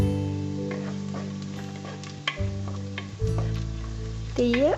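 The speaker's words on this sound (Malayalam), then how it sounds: "ഇപ്പോൾ ഉള്ളി വഴണ്ടിട്ടുണ്ട്" Steady sizzling of onions sautéing in a pan for chicken curry, with a few soft clinks of a spoon stirring and a faint voice near the end.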